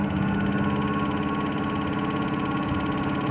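A wood lathe spins a spalted birch bowl blank at about 680 RPM, giving a steady, loud, continuous motor hum with a rhythmic low vibration throughout, with no talking over it.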